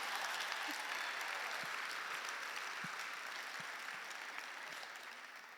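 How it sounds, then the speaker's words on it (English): An audience at a speaking event claps together in a dense, continuous patter that sounds somewhat distant and quiet and fades slightly toward the end. "now you can clap."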